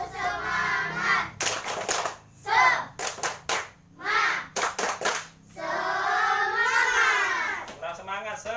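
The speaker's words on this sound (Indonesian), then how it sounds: "mari kita lakukan tepuk semangat coba supaya semangat" Schoolchildren perform a rhythmic Indonesian spirit clap, bursts of hand claps in a patterned sequence alternating with chanted group voices in a classroom.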